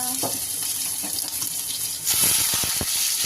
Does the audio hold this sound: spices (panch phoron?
yes